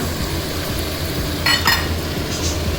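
A spoon stirring vegetable rice with mint and coriander leaves in a pan, a low steady sizzle under a couple of quick metallic scrapes and clinks near the middle, no voices.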